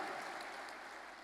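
Church congregation clapping together in response to a pastor's call, a dense steady wash of applause filling the room at moderate level for the whole stretch, with no voices rising above it.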